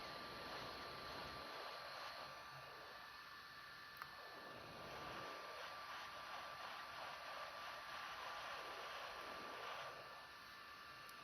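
A soft, steady airflow hiss from a hot air rework station runs throughout at low volume while desoldering a micro-USB connector from a Xiaomi phone, its whoosh rising and dipping slightly, with no speech.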